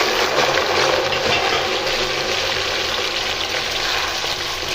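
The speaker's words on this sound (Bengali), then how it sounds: "ফুলকপিটাকে আমি সাদা তেলে এবার দিয়ে দিচ্ছি" Cauliflower pieces frying in hot white oil in a wok, a dense, steady hiss and crackle that starts loud and eases slightly, close and continuous with no talking.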